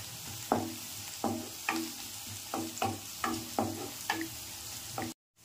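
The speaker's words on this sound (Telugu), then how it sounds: "ఉల్లిపాయలు ఈ విధంగా కొద్దిగా లైట్గా వేయించుకుంటున్నాను" Onions frying lightly in a pan with salt and turmeric for curry-leaf chicken fry: a soft steady sizzle with regular spatula strokes about every half second, close, with no speech.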